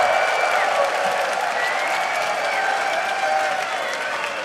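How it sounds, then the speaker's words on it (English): Applause for the player Youngbeck after an EU LCS League of Legends match, steady moderate clapping from a crowd lasting the whole stretch with tonal sounds above it. "I think an applause is in order for Youngbeck indeed"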